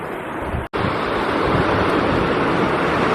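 Ocean waves rolling into a bay at Papatowai make a loud, continuous surging wash mixed with wind buffeting the microphone, with a momentary cut near the start.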